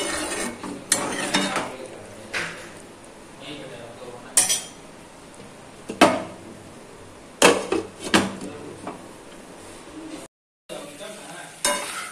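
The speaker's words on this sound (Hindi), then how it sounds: "इसे मैं सिर्फ फाइव मिनट ऑनली मिक्स करूंगी" Soya chilli being stirred in a pan, with a utensil clinking and scraping against the metal in irregular knocks and swishes over a faint sizzle, close by with no talk.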